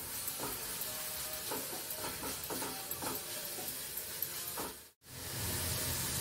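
Chopped vegetables for a capsicum and paneer dish frying in a pan, a steady hissing sizzle with scattered stirring clicks, broken by a brief cut near the end.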